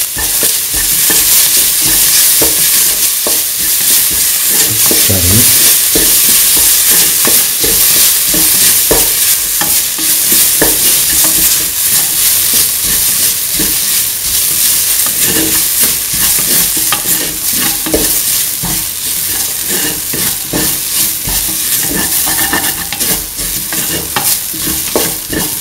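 Ground mint and a fennel-coriander mixture are stirred in a frying pan for a coconut milk stew, giving a loud, continuous sizzle with repeated scraping and tapping of a spoon against the pan.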